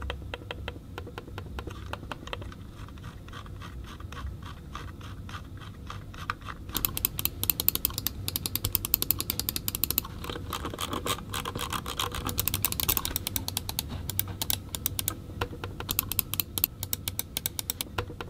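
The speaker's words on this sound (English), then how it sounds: "it still has that clicky tactile feel, just the sound is a little bit more muted" Logitech Pebble M350 and MX Anywhere and MX Master mice clicked in turn, a steady stream of small sharp taps near the mic, softer and duller at first, then crisper and louder clicks.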